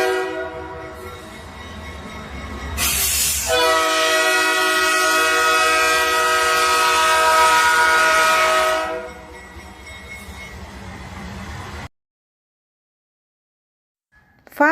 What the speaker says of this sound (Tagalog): Train's whistle.